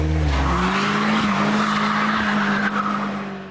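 A MINI Cooper D diesel is driven hard around a test course, its engine holding a strained steady note as the tyres squeal through a corner, loud and close, fading slightly at the end.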